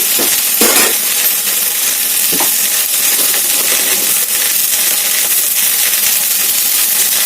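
Onions fry in a pan with salt added, a loud, steady sizzle crackling throughout with a few sharper clinks and stirring scrapes near the start.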